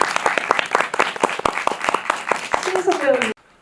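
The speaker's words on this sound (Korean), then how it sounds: "감독님 되게 오랫동안 준비하시고 또 이렇게 만드시고 오늘 이렇게 처음으로 관객과 만나는 그런 그 마음으로 오셨는데 큰 박수를 좀 부탁드리겠습니다" Audience applause after a film screening at a cinema, steady dense clapping from a crowd that fades under a voice and then cuts off abruptly.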